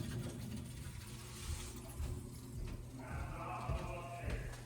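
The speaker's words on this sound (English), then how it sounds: "I can hear all the water moving and the solenoid ticking" Water rushing and trickling through the pipes of a Stover boiler, with faint mechanical ticking from a solenoid under a steady low hum, heard close up.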